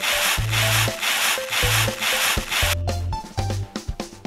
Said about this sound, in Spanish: ¡Usa una esponja y jabón para lavar los platos!